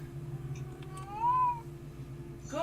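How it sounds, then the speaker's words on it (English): A cat lets out a single clear, rising-and-falling meow over a steady low electrical hum, with the start of another cry right at the end. "Every day the cat wakes up and chooses chaos."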